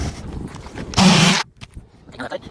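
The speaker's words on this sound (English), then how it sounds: "I'm gonna go ahead and take this one and I'm gonna cut it right along there." A blade rips through a 3-tab asphalt roof shingle in one loud, coarse scraping stroke lasting about half a second, close up, between quieter handling noises and bits of talk.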